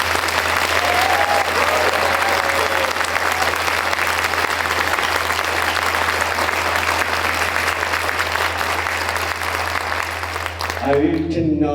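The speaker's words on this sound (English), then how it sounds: "So please give them another round of applause." Concert hall audience gives a youth orchestra a long, loud round of applause, a dense sustained wash of clapping that holds for about ten seconds before fading as a voice starts speaking.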